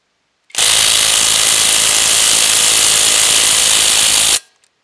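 A Bauer compact cordless impact wrench runs on a bolt in one loud, continuous burst of about four seconds, starting abruptly and cutting off sharply, very close.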